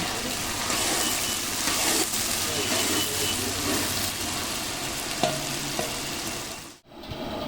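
Slices of pointed gourd fry in hot oil, a loud, steady sizzle that carries on almost unbroken and cuts out briefly near the end.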